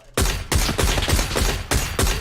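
Rapid SLR rifle hip-fire gunshots in PUBG, a series of about seven loud, sharp reports at an uneven, quick pace, close and dominant with no talk.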